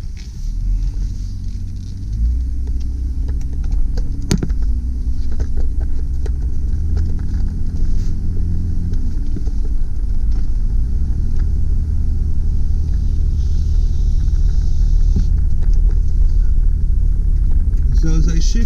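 A 1997 Toyota Land Cruiser FJ80 4WD reversing, heard from inside as a loud steady low engine rumble with gear whine that shifts in pitch as it moves backward.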